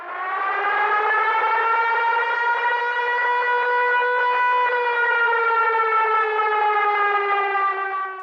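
A civil defense siren with added distortion and a narrowed frequency range, like playback from an old storage medium, holds one long, steady, loud wailing tone with slight pitch drift before fading at the end.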